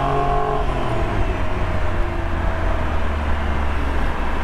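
A Porsche 911 996 Carrera 4S drives along a road, its engine and tyre noise forming a steady close rumble from inside the car with no talk.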